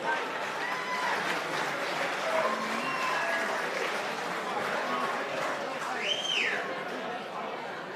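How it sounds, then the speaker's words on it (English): Crowd applause at a boxing match after the first fight of the night, a steady wash of clapping and cheering that fills the whole stretch, with announcer-style voices and a whistle-like cheer rising above it. "how about a round of applause for our two fighters for our very first fight?"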